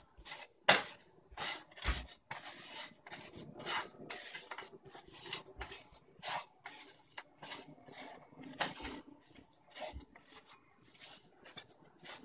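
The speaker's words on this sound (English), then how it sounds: "Roast it till the coconut is golden." Coconut roasted in a pan after sesame seeds, a spatula scraping and rasping against the metal in steady, rhythmic strokes, close and fairly quiet.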